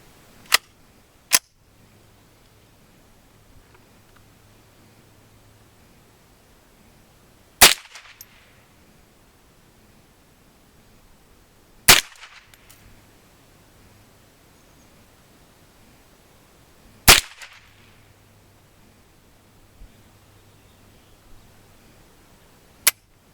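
A Ruger 10/22 rifle fed from a Butler Creek magazine fires several sharp, loud single shots at irregular intervals, about five or six cracks separated by quiet pauses outdoors.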